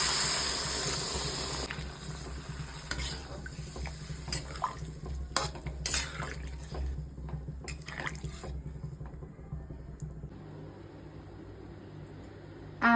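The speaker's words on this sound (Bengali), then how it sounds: "এইবার আমি জল দিয়ে দেব পরিমাণ মতন" Water is poured into a pan of jackfruit curry, a soft continuous trickle and splash, faint and close, fading out near the end.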